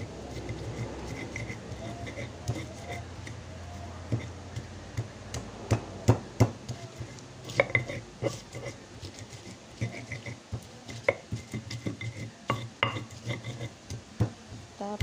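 Spices are ground by hand on a stone mortar for stir-fried bitter melon, giving irregular scraping strokes and sharp knocks of the pestle against stone over a low background hum, with occasional speech.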